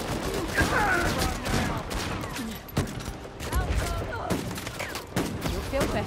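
Gunfire in the Uncharted 4 multiplayer video game, several bursts of rapid shots and a few single heavy reports in quick succession, fairly close and punchy, with brief game voice chatter mixed in.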